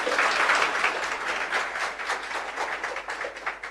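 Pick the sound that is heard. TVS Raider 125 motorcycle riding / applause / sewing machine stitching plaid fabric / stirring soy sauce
applause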